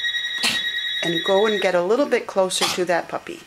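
A telephone rings with repeated electronic trills in a home where miniature schnauzer puppies are kept, the ringing heard behind a person talking.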